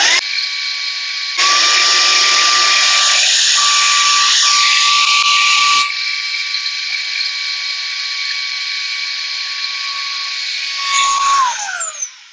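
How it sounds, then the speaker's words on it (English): Ryobi P724B cordless stick vacuum running with its floor brushes switched off, a loud, close, steady high-pitched motor whine that shifts in tone partway through and winds down at the end, with no voices. "but we'll carry on vacuuming"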